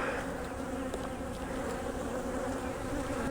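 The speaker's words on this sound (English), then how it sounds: "So these bees down here are looking for the way in because it used to be lower." Honey bees swarm around the entrance of an Apimaye hive, giving a steady, close, dense buzzing drone with no voices.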